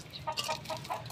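Chickens in a coop give repeated short clucks and chatters, close and moderately loud, arriving in uneven bursts over a steady low background hum with no talk.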